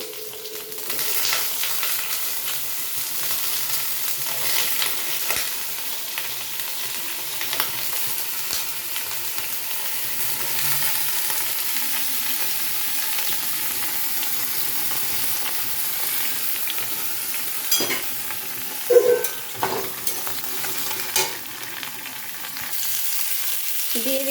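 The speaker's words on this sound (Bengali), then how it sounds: "এই ঝিঙে আর আলু নিয়ে আমি এই গরম হয়ে গেছে আমি ছেড়ে দিলাম এবার এইটাকে একটু ভেজে নিয়ে" Ridge gourd and potato pieces frying in a hot pan give a steady, close sizzle throughout, with occasional scraping and clinking as the vegetables are stirred, and no voices.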